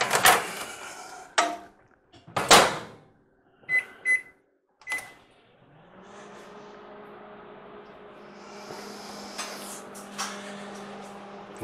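A microwave oven melting butter: door clunks and button beeps, then a steady low hum as it runs, close and moderate in level, with no talking.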